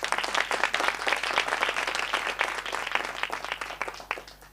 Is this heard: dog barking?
no